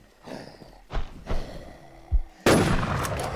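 Gunfire in the online zombie shooter NewZ, aimed at a boss: a few separate heavy shots spaced apart, then a louder, sustained burst of blasts and noise, with no talking.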